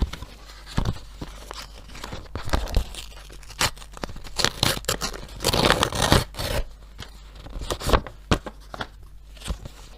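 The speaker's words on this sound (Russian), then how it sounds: "Ну и давайте откроем этот пакетик." Thin paper being torn and crinkled as a small surprise packet of paper socks is opened, a run of sharp rips and rustles up close with no talking.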